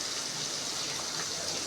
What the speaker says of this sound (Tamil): அதை அப்படியே அலசிக்கிறோம்